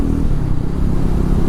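A Triumph Tracker 400 motorcycle being ridden, a steady low engine thrum and wind rumble close by, brief and even with no speech.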